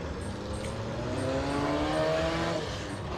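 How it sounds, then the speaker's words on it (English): A demolition derby stock car's engine runs loud and steady at close range, a continuous rough roar with shifting harmonic tones that swell slightly toward the middle. "There's a whole different sound to a stocker car."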